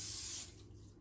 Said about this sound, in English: I just use a regular old cooking spray, nothing special